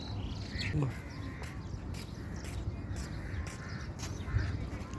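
Scattered bird calls, including a few harsh caws, sound faintly over steady outdoor background noise on a Dubai beach in the morning.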